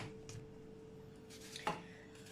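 Potatoes being sliced into rounds with a knife, a few faint, sparse cuts and one sharper tap against the board in a quiet kitchen.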